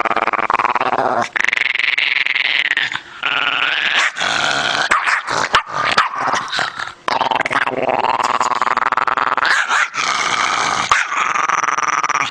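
A dog growls and barks at a visitor to its owner's home, loud and close, with continuous snarling broken by sharp barks, yips and whimpers and no talking.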